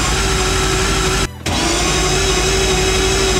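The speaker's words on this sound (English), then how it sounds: "We will crank it so Charlie can check the timing" A Volvo fitted with a four-rotor engine is cranked by its starter, giving a loud, steady mechanical whir with a constant whine that briefly cuts out and then resumes.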